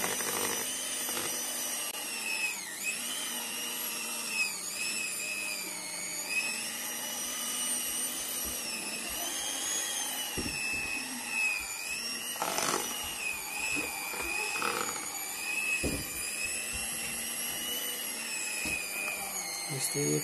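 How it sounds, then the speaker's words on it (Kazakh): An electric mixer keeps whirring through a large bowl of homemade cream being churned into butter, a persistent high motor whine with wavering pitch, punctuated by knocks and bumps of the beaters against the bowl. "мінекей миксерменен айналдырып, сармай жасаймыз"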